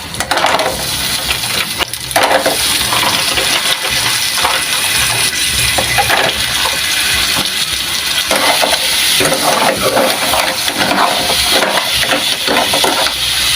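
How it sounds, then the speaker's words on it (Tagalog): Shrimp and mussels being stirred in a pan, with dense clattering of shells and utensil against metal over a frying hiss, loud and close. "Halo na natin yung ating hipon."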